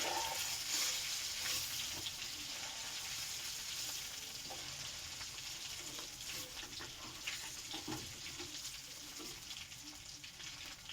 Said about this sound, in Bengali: মাথাগুলো সম্পূর্ণ ভাজা হয়ে গেছে